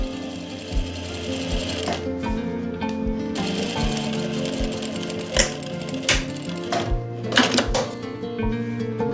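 A sewing machine stitches a zip onto the back of a kurti in short bursts, its needle clattering rapidly with brief stops and sharp clicks between runs.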